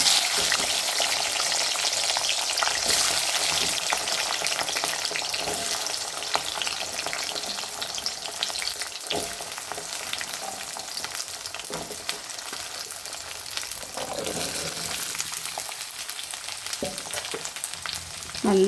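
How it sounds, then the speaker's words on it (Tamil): Peeled, dried small shallots fry in hot oil with a continuous close sizzle and crackle and occasional stirring, with no voices. "இந்த எண்ணெய் பிரிகிற வரையும் நல்லா வதக்கணும்."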